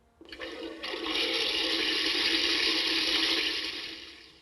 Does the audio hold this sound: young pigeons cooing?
no